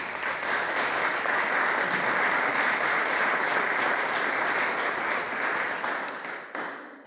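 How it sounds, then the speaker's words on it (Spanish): Audience applause at the opening ceremony of the 19th Jornadas del Azafrán (saffron festival), a steady dense clapping from a crowd sustained for about six seconds before tapering off near the end. "La recibimos con un fuerte aplauso."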